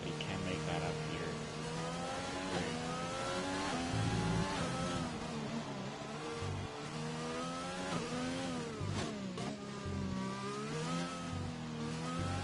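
Onboard engine sound from a race car in a racing video game, revving up and down through gear changes in a continuous, wavering whine, with commentators talking over it.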